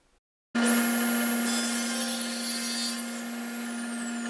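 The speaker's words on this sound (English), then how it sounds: "Use a table saw to cut clean edges on all 4 sides" A table saw spins up after a moment of silence and trims the edges of a screwed-together plywood base. It gives off a steady, loud whine and hum that holds for several seconds, and the cutting tone shifts slightly partway through.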